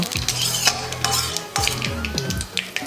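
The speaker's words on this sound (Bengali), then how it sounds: "এবারে ভালো মতো নাড়া দিয়ে ফোড়নটাকে ফুটিয়ে নেবো" A dry chili and black cumin tempering in hot oil, stirred with a metal spoon that clinks and scrapes on the pan, over a soft sizzle, close and fairly loud.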